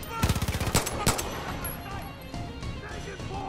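Rapid burst of gunfire in Far Cry 5, a quick run of sharp close shots followed by a few louder single reports, then a busy game backdrop with no talk.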